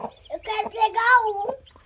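A chicken clucks repeatedly up close in a short burst of rising, squawking calls, with people talking quietly nearby.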